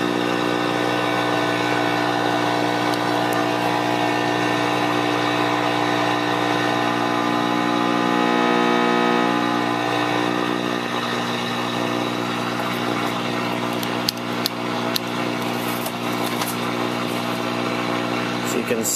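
An RCA CTC16 colour television driven into overload during IF alignment gives off a loud, steady harmonic buzz that holds throughout and grows rougher and noisier toward the end.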